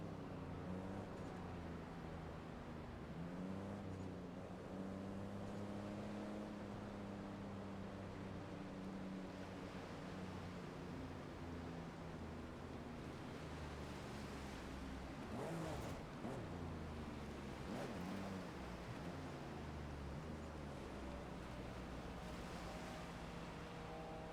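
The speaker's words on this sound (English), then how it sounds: "I just hear the waves hit the beach, and it is just a very nice sound." Video game beach scene with a car nearby: waves wash steadily onto the shore in a continuous low surf roar, with a couple of brief louder swells partway through, faint and distant with no talking.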